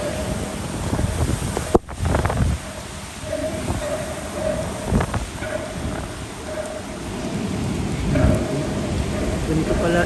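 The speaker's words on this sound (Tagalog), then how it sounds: "Ganito pala, iba pala ang bagyo dito sa Hong Kong." Typhoon wind and rain in Hong Kong, a steady roar of rain and gusting wind with traffic noise, a brief sharp knock partway, continuous and fairly loud throughout.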